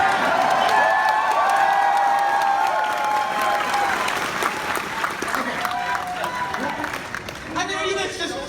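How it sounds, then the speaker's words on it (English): A crowd at a Star Wars Celebration convention cheers and applauds, loud clapping and shouts swelling then tapering, with voices heard over the noise. "are you guys just cheering for Ahsoka?"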